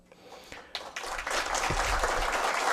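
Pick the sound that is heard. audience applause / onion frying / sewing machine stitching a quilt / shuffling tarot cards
audience applause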